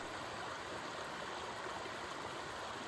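Rainwater after heavy rain running down off a mountain and washing over a water bar, a steady broadband rushing and gurgling like a stream, faint and continuous with no talking.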